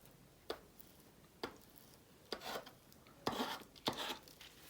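Glue stick scraping and rubbing across paper while decorating a scrap-paper bag, a series of short dry rasping strokes, a few sharp and several longer, fairly faint and close, with no talk.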